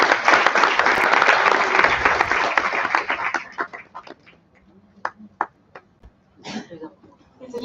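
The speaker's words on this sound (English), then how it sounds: "Please give it a big round of applause." A conference audience applauds loudly for a few seconds, then the clapping thins out to scattered claps and fades.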